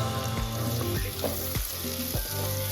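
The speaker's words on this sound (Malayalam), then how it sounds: "അപ്പൊ ഇതിലേക്ക് ഉള്ളി ഇട്ട് കൊടുക്കാം." Onion sizzles loudly in hot oil in a pan, making a dense, close crackle. Scraping stirs come every half-second or so.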